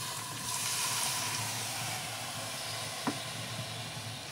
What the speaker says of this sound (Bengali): অল্প একটু পানি দিয়ে এটা ফুটিয়ে নিতে হবে।